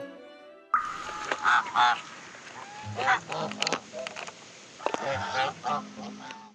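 Geese honk repeatedly by a pond on the KAIST campus, loud nasal calls coming in irregular bursts after a short quiet start, with some voices faintly mixed in.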